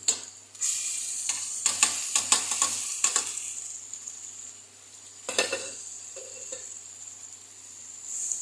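Vegetables and tomato paste frying in a pan give a bright, continuous sizzle, with repeated scraping and clinking stirring strokes from a utensil against the pan.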